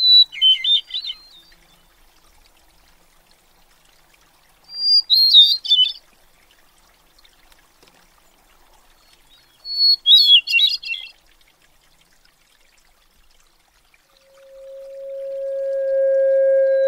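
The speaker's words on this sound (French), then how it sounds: "On vient d'entendre le chant d'un oiseau" Songbird calls recorded outdoors in nature, three separate bursts of chirping phrases spaced several seconds apart against near silence, followed by a steady tonal hum rising at the end.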